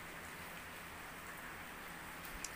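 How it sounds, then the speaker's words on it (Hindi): Steady, even rain hisses without pause, a dense wash of drops heard from a slight distance, with no voices. "देखिए कैसी बारिश हो रही है"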